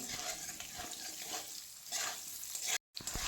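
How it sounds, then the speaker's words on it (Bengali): Sliced potatoes, peeled and cut into long strips, frying in hot oil until reddish for a fish curry, giving a steady close sizzle with light stirring scrapes and a brief dropout near the end. "আলুগুলোকে একটু লালচে করে ভেজে নিতে হবে"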